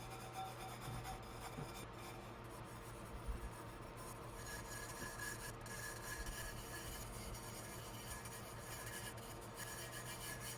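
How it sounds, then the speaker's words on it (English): Hand rubbing over a glitter-covered Christmas tumbler, a faint, continuous scratchy friction sound with steady rhythm, close to the microphone and with no voices. "So I'm just gonna go ahead and start rubbing."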